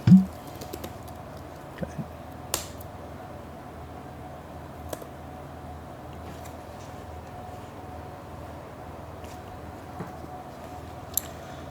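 Scattered keystrokes on a computer keyboard while writing C socket code, with sparse faint clicks and a few louder taps over a quiet room hum.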